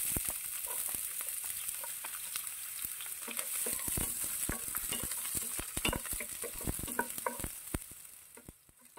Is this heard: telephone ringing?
no